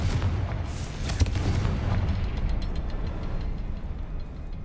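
A Confringo explosive spell goes off in Hogwarts Legacy, a dense booming rumble with a sharp blast near the start that roils on loudly and thins out toward the end.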